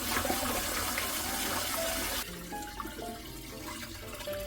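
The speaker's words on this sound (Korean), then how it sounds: "맑은 물이 나올 때까지 깨끗이 씻어줘야 됩니다." Glutinous and regular rice are rinsed in water for homemade makgeolli: a rush of running, splashing water gives way to quieter swishing and light clinks close by.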